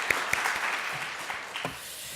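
A church congregation at a Sunday morning service applauds steadily, a dense wash of clapping heard from within a large room, with a couple of sharper claps standing out near the start.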